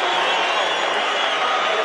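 A boxing arena crowd awaits the judges' decision after the Jose Luis Castillo vs Stevie Johnston rematch, a loud, steady roar of many voices cheering and shouting with no break.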